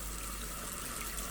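Running water from a tap wetting a wine glass for cleaning: a steady, even rush of flowing water with no pauses or talk.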